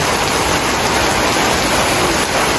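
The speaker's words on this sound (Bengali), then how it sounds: "এই যে আমাদের এইখানে কত বৃষ্টি হইতাছে দেখেন" Heavy rain pours down in a dense, loud, unbroken hiss, close by.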